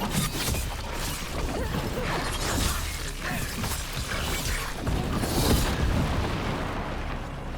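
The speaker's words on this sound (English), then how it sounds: "The explosion behind it was cool." Explosion in the video game Dragon Age: The Veilguard, a sustained roaring, crackling blast with repeated heavy booms and debris-like rumbles spread over several seconds, loud and dense throughout.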